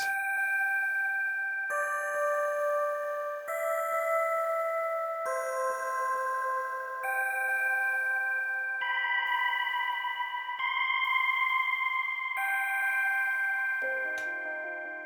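Sustained synth chords shift through a slow progression, each change washing into the next under a long, heavy reverb tail; bright, airy and steady in level.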